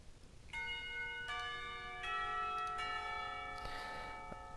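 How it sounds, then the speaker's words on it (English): A school bell rings out to mark lunchtime in the visual novel Katawa Shoujo, a series of clear, resonant chime strikes that layer and sustain over one another, fairly soft and heard alone. "A bell heralding the beginning of lunchtime rings out, shaking me out of my thoughts."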